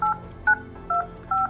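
Four short DTMF keypad tones sound in quick succession on a Polycom VVX 411 desk phone while an extension is dialed, each a crisp, even beep separated by brief gaps.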